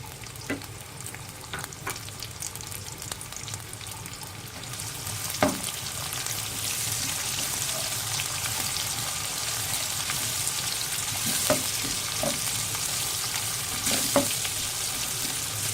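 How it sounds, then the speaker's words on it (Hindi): Onions fry in a pan for a mutton liver curry, giving a steady moderate sizzle with scattered light stirring clicks and taps throughout. "उसके बाद मैं प्याज ऐड कर रही हूँ।"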